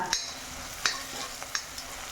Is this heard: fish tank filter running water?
no